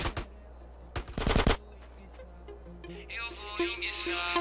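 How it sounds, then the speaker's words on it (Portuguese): Video game gunfire: a quick machine-gun burst, then a longer rapid volley of loud close shots, followed by quieter game sounds and background music. "Tô vendo tiro, ó."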